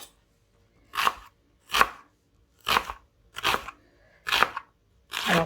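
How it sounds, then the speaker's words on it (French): A knife finely chopping onions, potatoes and celery into small cubes on a cutting board: six crisp, separate chops spaced about a second apart, close and clear against an otherwise quiet kitchen. "je vais venir couper assez finement mes oignons et je vais couper après les autres légumes, c'est-à-dire les pommes de terre et le céleri, en petits cubes"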